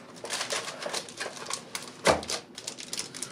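A Logitech G213 Prodigy keyboard is pulled from its plastic bag, giving close, steady crinkling and rustling with one sharper, louder crackle partway through; no one talks.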